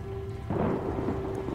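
A low rumble of video game thunder from the horror game Outlast rolls in and swells over a steady tonal hum, with no voices.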